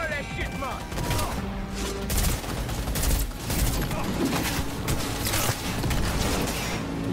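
Rapid automatic gunfire from the video game Cyberpunk 2077, dense bursts of shots running throughout under a faint game soundtrack, with someone talking over it.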